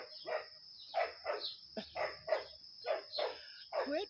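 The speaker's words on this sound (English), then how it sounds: "quit barking at him" A dog barks in a quick, steady run of about ten sharp barks over a few seconds, close and fairly loud, with no talking.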